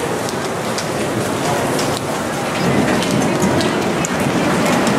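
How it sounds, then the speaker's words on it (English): Hail and rain pour onto the deck of the Disney Magic cruise ship during a rainstorm off Barcelona, a loud, steady close-up roar of dense impacts that swells slightly partway through. "Whoa. It's hailing!"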